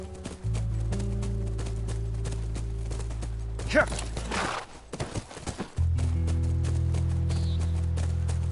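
Horse hooves clip-clop in a steady rhythm on a ranch in the video game The Last of Us, carried over a constant low drone, with a brief gap and a short spoken word partway through.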